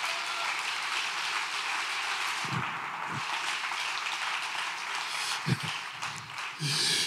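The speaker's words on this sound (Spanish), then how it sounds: "dele un aplauso al Señor" A church congregation at an evangelistic service applauds steadily for several seconds, a dense even wash of clapping with a few louder thumps near the end.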